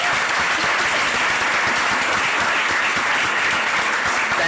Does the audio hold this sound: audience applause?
yes